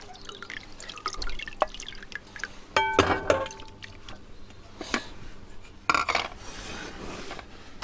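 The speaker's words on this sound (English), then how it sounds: "we're going to add some more water, but this time a lot hotter" Hot water poured into a bowl while making fresh mozzarella, with splashing and dripping, clinks of glass and dishes, and a louder pour burst midway and another near the end.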